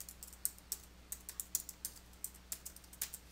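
Computer keyboard typing at a desk while a job description is entered into a QuickBooks Desktop Pro 2019 field: a steady run of quick, light key clicks at close range, irregular in rhythm, with no voices.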